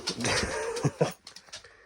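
A dog whines and whimpers for attention indoors late at night, a few short high-pitched whimpers close by, then quieter shorter whines.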